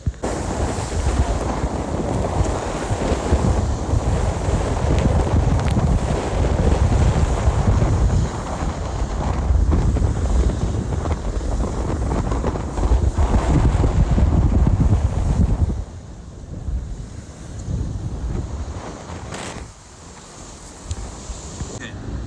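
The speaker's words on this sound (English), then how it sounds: "that's that wind" Strong wind buffets the microphone aboard a racing yacht at sea during the Vendée Globe, with waves rushing past the hull in a loud, continuous roar that eases slightly near the end.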